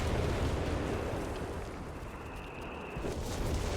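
Artillery shells from British forces crash down in a Company of Heroes 3 battle, a dense, continuous roar of rumbling explosions that stays loud throughout with a faint whistling tone midway; no talk.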